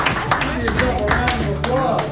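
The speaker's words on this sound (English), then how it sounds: "Give yourself a round of applause." Children giving a round of applause, a burst of claps mixed with voices and chatter close by.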